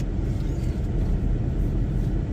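A big truck idles parked beside the listener at a truck stop in Brunswick, Georgia, a close, steady low-pitched diesel rumble droning without change.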